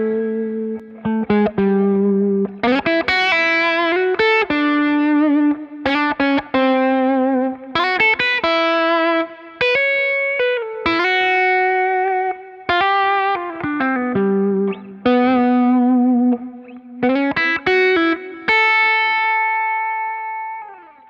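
Sustained, singing electric guitar lead from a MESA/Boogie Mark IIC+ tube amp with a lush chorus shimmer and light overdrive, playing slow melodic phrases with held notes and reverb tails, no voices.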